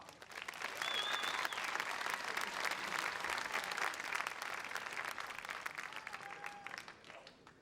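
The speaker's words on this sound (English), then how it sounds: "Let's see if the crowd reacts to the introduction of both Iha and Takase." Arena crowd at UFC 29 in 2000 applauding a fighter's introduction, a steady roar of clapping and cheering that holds for several seconds and then eases slightly, with faint voices mixed in.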